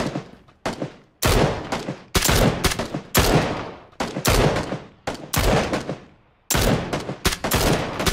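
Bursts of close, loud automatic gunfire in PUBG Battlegrounds, about a dozen sharp volleys in quick succession separated by brief gaps, with little else audible.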